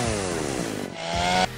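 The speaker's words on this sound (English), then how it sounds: "Best solution for these, you guessed it, the chainsaw." Chainsaw in the 1993 video game DOOM, a loud buzzing motor that revs continuously and briefly surges in pitch near the end before cutting off.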